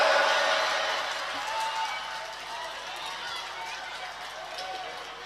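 An audience at an Islamic lecture for Isra Mi'raj bursts into applause and cheering, a broad, roaring crowd clap that starts loud and gradually eases while staying sustained.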